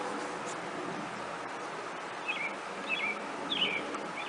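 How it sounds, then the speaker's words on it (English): A pileated woodpecker calls outside, faint and distant, with three short calls in the latter half over a quiet indoor background hiss. "That's my pileated woodpecker that's outside."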